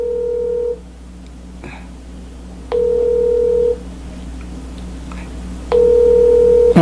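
A telephone ringback tone sounds while a call is placed. Three steady one-second tones repeat about every three seconds over a low hum, loud and close, with no voices.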